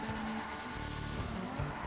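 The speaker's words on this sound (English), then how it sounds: "It definitely makes it a lot easier to drift." A drift car in GTA Online, LS Tuners, slides with loud tire squeal and skidding over a racing engine roar, short and continuous, up close with no talking.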